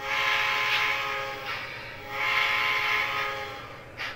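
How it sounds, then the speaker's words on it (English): A model train's DCC sound decoder, run with a Deek-Robot motor shield, blows its automatic whistle as the engine starts, giving two long, rich blasts and a brief final toot, loud and close. "So it's got the automatic whistle when it starts, and same thing when it stops."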